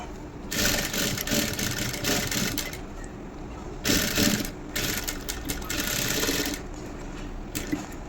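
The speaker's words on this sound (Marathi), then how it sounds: "त्यासाठी इथे अशा कडेकडेने स्टिच लावायची आहे." Sewing machine running in two loud, close bursts as it stitches along the edge of fine lace on a blouse, with a brief pause between runs and a short tail of quieter mechanical noise.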